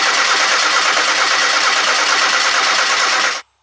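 A Mazda Miata engine runs loud and close with a dense, steady rumble for a few seconds, then cuts off abruptly.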